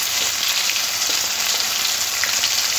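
Loud, continuous sizzling of chopped tomatoes frying in a pan with salt, nigella seeds and turmeric, a dense, steady crackle heard close up with no talking.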